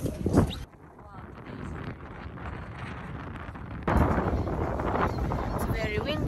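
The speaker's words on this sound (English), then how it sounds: "It's very windy today in Amsterdam." Steady wind buffeting the microphone with a low rumbling roar in Amsterdam, gusting stronger partway through, while someone talks over it.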